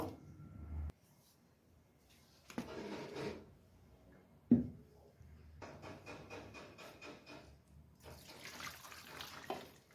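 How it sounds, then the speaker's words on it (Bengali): Cooked chitol fish curry is poured from a pan into a bowl, giving a few scraping, sloshing pours with quiet gaps between, close and soft. "এখন এটা আমি গামলার মধ্যে ঢেলে নেব"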